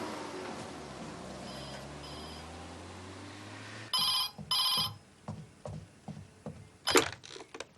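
A telephone rings in two short, bright bursts, followed by a few clicks and clatters at close range, with a low hum underneath beforehand.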